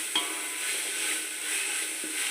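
Freshly made ginger-garlic paste sizzles in hot oil for a restaurant-style chicken biryani, a steady close hiss with a couple of faint clinks from the pan, and nobody talks.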